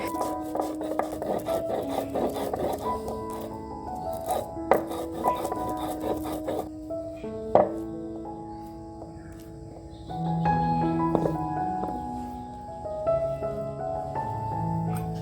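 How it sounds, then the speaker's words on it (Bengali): White mustard seeds ground on a shil-nora grinding stone, giving a rough rasping, rubbing scrape in uneven back-and-forth strokes with scattered sharp knocks of stone on stone, close by and moderately loud. "এই দিকে সর্ষেটা বেটে নেব শিলনোড়ায়"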